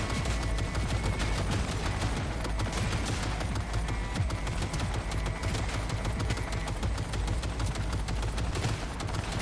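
Rapid gunfire in the Cyberpunk video game while shooting at enemies, dense continuous bursts of shots with no pauses, loud and sustained.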